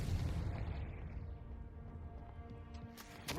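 A Confringo blasting-spell explosion in Hogwarts Legacy gives a deep, rumbling boom that fades into a low lingering tail, followed by a faint sharp crackle at the end.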